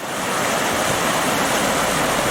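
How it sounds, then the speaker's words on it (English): Constant loud roar of a rushing mountain stream, the Cadair on Cadair Idris in Wales, by a slate bridge, dense and steady for the whole stretch, close by with no speech. "the beautiful sound of rushing water"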